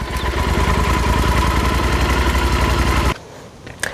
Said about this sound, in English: I'm going to run the bike for maybe just 1 minute, get it running